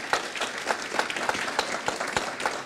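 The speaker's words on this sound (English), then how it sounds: "We're going to give her a round of applause." An audience at a South Asian heart disease outreach evening claps in sustained, even applause, moderately close, with no talk over it.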